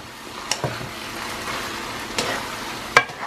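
Steady frying sizzle of rice pilaf in a pan with a few sharp scraping clinks of stirring spaced through it, close by, no talking.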